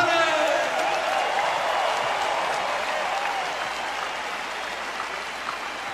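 A huge stadium crowd at a concert in Brazil roars and applauds for the show's crew, a loud, dense wall of cheering and clapping with whistles and shouts that slowly eases off.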